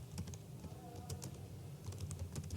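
Fingers tap out code on a computer keyboard for a React blog app, a quick run of close, uneven clicks with short pauses between bursts.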